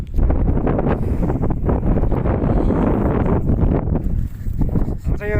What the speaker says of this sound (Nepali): यस्तो पुरा सिरेटो चलिरहेछ